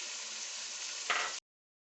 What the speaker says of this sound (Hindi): ये हमारी कलेजी जो बनी हुई है ये भून के तैयार हो जाएगी